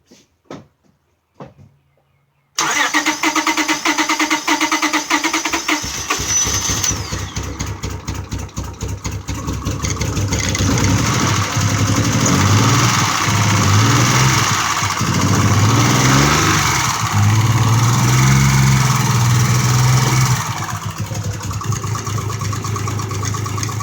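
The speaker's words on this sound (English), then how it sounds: "So it's really sounding like a blown head gasket." A 2001 Acura CL 3.2 Type-S engine with a blown head gasket starts up after a few brief knocks and runs loud and rough, with an uneven, stumbling idle close by and no talk.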